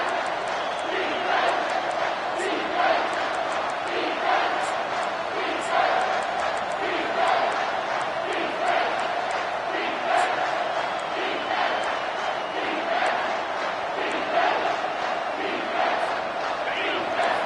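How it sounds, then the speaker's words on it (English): A Baylor vs Notre Dame college football stadium crowd roars in a steady, dense wash of noise that swells and pulses throughout, with chanting surges rising every couple of seconds. "This crowd is trying to inspire this defense to make a big red zone stop."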